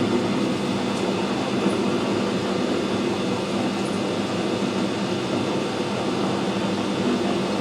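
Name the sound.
lathe screw cutting a thread on Sentinel part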